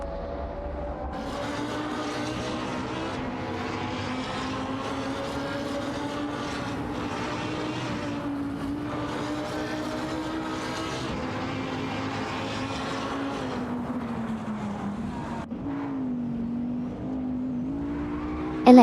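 Race car engines in an AI racing video game, several cars droning at high revs in a continuous whine whose pitch slowly shifts, with a brief dip near the end.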